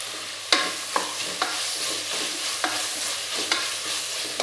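Ginger garlic paste sautéing with softened onions in a pan, with a steady sizzle under sharp spatula scrapes and stirs about every half second to second, close and fairly loud, no talking.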